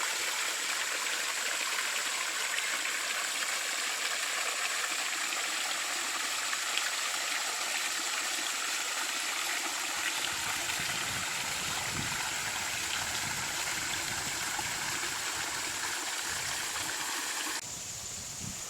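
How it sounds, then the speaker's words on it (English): Waterfall below a backyard pond on a rural property, a steady, full rush of falling water that runs unbroken and fairly close throughout, with a slight drop in level near the end. "This is the waterfall below the pond."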